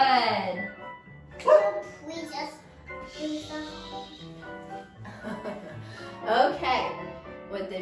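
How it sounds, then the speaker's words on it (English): Dogs barking in a home during a preschool and toddler dance class, several sharp barks and yips in bursts, mixed with a voice and adult talk. "With the barking dogs"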